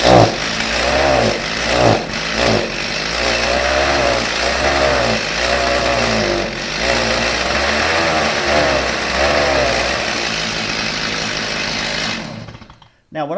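A Stihl two-stroke chainsaw that had been refusing to run, fueled with TruFuel, runs loud and close with a steady buzzing drone and repeated throttle surges, for about twelve seconds before cutting off abruptly.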